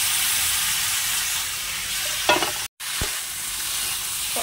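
Prawns frying and being stirred in spice paste in a hot pan, a steady close sizzle with scraping stirs near the middle and a brief cut in the sound before the hiss resumes.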